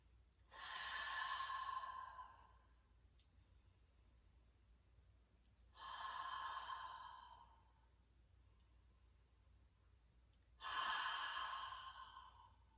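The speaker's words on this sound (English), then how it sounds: "let's take 3 big cleansing breaths" Three slow, deep cleansing breaths during a yoga twist, each a long airy exhale a few seconds apart, close and clear against quiet background hiss.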